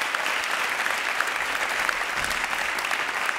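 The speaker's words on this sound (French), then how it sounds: "Je crois qu'on peut l'applaudir" Sustained applause from a sizable audience, a dense even patter of clapping hands that continues throughout without letup.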